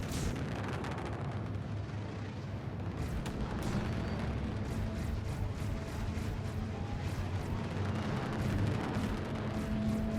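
A missile detonates on a Prospector ship in Star Citizen, a heavy, rumbling explosion that rolls on for several seconds with scattered pops and crackles over a dense low roar.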